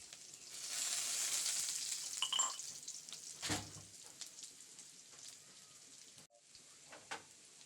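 Prawns, onion and garlic frying together in a pan, a soft continuous sizzle with brief stirring scrapes and clatters, fairly faint and close.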